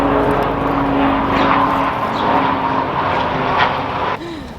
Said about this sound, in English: Like 5th helicopter today in New York City.